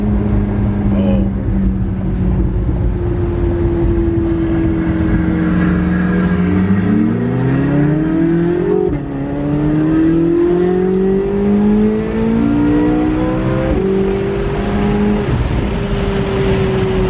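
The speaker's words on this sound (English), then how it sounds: "listen to that exhaust" A Corvette C8 Z06 exhaust revs loudly and accelerates, its engine note climbing through gears in rising sweeps, with brief shifts between pulls, while people talk faintly in the background.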